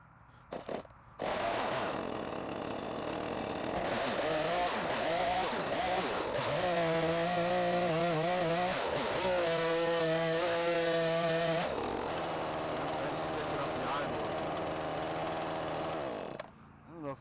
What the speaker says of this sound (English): Use the small saw for that.